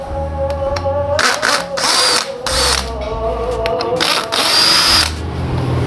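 A power tool loosens the timing bolt on a motorcycle engine while the cam chain is being serviced, with several loud whirring bursts and ratcheting clatter between short pauses, close up.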